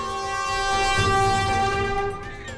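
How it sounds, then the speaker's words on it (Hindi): A train pulls in during a dramatic Hindi-dubbed action movie scene, its long sustained horn blaring loudly over steady rail rumble and then easing off near the end. "मेरी ट्रेन आ गई है।"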